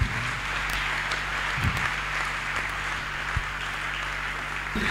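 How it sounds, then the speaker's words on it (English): A church congregation claps during a healing testimony service, a sustained, broadband wash of many hands that holds steady over a low, constant background hum. "Clap for Jesus."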